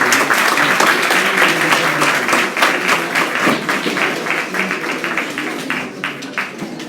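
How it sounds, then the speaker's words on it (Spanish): Audience applause for a doctor at the close of a monthly medical society session in a hall, a dense, steady clapping from many hands that runs through the whole stretch and slowly eases off toward the end. "otro fuerte aplauso para el doctor Natalio"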